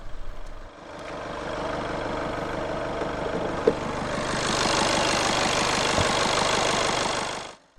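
A 2015 Volkswagen Passat 1.6 TDI 120 S, a 1.6-litre 16-valve turbo diesel inline-4, idles steadily after start-up with a close, even clatter that grows somewhat fuller partway through, with no talking.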